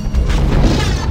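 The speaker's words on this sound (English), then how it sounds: "So the alternate fire is just shooting into the ground." In the Dead Space video game, a weapon's alternate fire blasts into the ground with a single loud, dense boom that fills the whole moment without pause.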